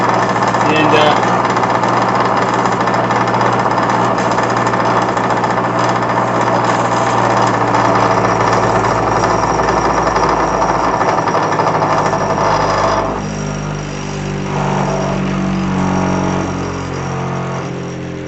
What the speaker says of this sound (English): those that say my grinder's way too loud, hello, it's this thing right here